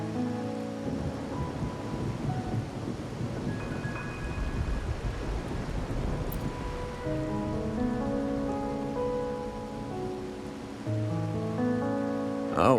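Steady rain falls in the video game Wuthering Waves, a dense continuous hiss of drops on surfaces with low rumbles beneath and a soft musical drone running throughout.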